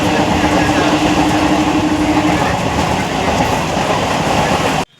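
A passenger train on the Santragachi to Uluberia line, rumbling loudly and close with a steady clatter of wheels on track and a faint sustained tone, continuing until it cuts off abruptly at the end.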